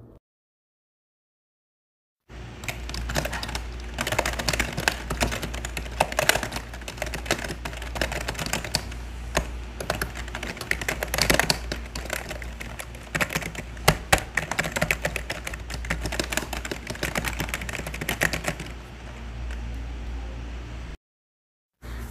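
Keys on a Marvo Scorpion CM450 gaming keyboard clicking in a steady, rapid stream of close, crisp keystrokes for about sixteen seconds, with a quiet pause before and after.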